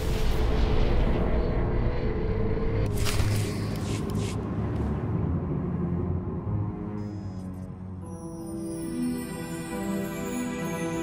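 Eternal Fleet warships open fire in the Star Wars game Knights of the Eternal Throne during the war for Iokath: heavy, continuous booming barrage and rumbling blasts, loud and dense, easing slightly as higher sci-fi whines enter near the end.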